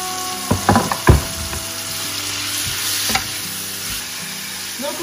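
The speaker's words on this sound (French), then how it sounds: "Donc on fait cuire la viande et les oignons pour les faire dorer dans un premier temps." Meat and onions fry in a pan with a loud, close, continuous sizzle, broken early on by a few sharp scrapes and knocks of a utensil stirring them.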